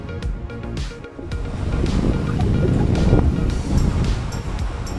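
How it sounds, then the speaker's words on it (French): Strong wind roars steadily across a microphone at the shore, with waves washing in beneath it, loud and continuous throughout with no talking. "C'est fou le vent qu'il y a."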